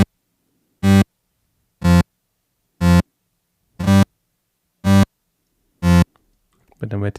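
Six separate synth notes play without any delay effect, each a short, even-spaced harmonic burst about a second apart with silence in between, followed by a brief voice at the end.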